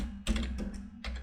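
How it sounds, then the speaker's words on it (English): Typing on a computer keyboard: short bursts of close keystrokes with brief pauses between them, heard alone. "I just type in"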